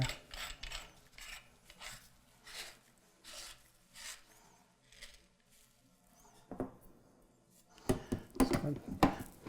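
Parts of a Homeleader meat grinder are fitted together and screwed down snug, giving faint scattered clicks, plastic and metal rattles and twisting ratchet-like sounds, with a louder clatter near the end.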